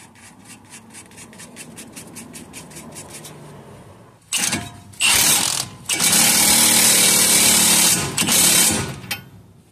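A power tool runs the nut onto an inner tie rod of a 2005 Infiniti FX35, heard as loud, close bursts of whirring, rattling drive after a quieter stretch of faint ticking.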